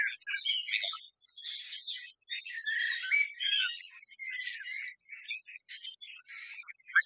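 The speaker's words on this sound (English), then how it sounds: "If you make a recording outside, bird noise can be a problem" Birds chirp and tweet in quick, busy bursts of high calls, several voices overlapping with brief pauses, fairly clear against a quiet background.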